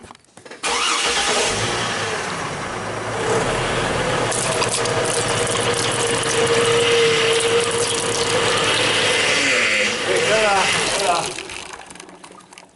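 A Chevrolet Trailblazer runs steadily while its power steering system is flushed, giving a continuous mechanical drone with a thin pump whine rising midway, close and fairly loud, with faint voices in the background.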